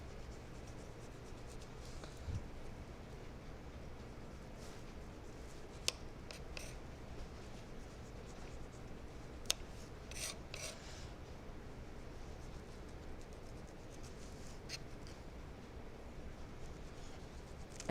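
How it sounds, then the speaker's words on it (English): A knife peeling the rind off a melon such as a cantaloupe or honeydew, faint repeated scraping strokes and occasional soft clicks at close range over a low, steady room hum. "And peeling a cantaloupe, honeydew, pineapple, they all peel the same way."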